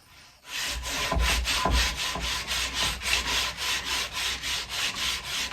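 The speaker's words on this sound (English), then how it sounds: "so I'm going to just use my sandpaper" Sandpaper rubs back and forth along a dogwood arrow shaft, making a close, rasping scrape in quick, even strokes, about a dozen in a steady rhythm after a brief quiet start.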